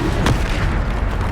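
A Descendo spell is cast in the Hogwarts Legacy video game, a dense rumbling boom with a brief sharp burst near the start, loud and close amid continuous battle noise.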